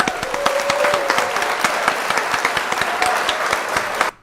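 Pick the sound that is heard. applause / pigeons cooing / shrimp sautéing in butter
applause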